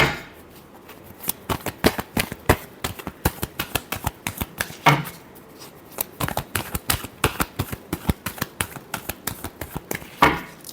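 Tarot cards being shuffled by hand, rapid crisp riffling flicks in quick bursts with a short pause midway, close and fairly loud with no talk.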